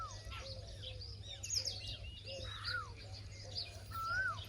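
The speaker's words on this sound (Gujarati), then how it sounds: "જો કોયલ ચાલુ થઈ." An Asian koel calls on a village morning, its rising whistled notes carrying from some distance, faint and mixed with other birds chirping and cawing over a low steady hum.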